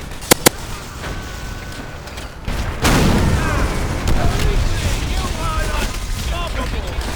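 Explosions from bazookas and planted dynamite during a World War II assault on German gun positions at the Reichstag in Call of Duty: World at War, with two sharp early blasts, then a heavy boom that leaves a dense, continuous rumble of battle.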